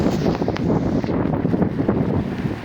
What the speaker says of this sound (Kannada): ಇಲ್ಲಿ ನದಿ ಹರಿತಿದೆ